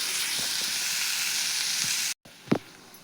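Cabbage fries in oil in a pan with a steady, even sizzle that briefly cuts out, then resumes more quietly with a few soft stirring scrapes and taps.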